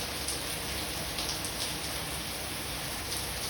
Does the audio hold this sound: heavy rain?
yes